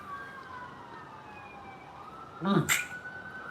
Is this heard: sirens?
yes